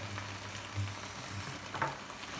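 Olive oil and a little butter sizzle in a pan for prawn orzo risotto, a soft, even frying hiss at low volume with faint stirring bumps and no speech.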